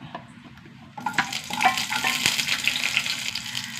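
Small shallots hit hot coconut oil partway through, and quiet stillness gives way to a loud, crackling sizzle with spatula clinks and stirring, close by and steady to the end.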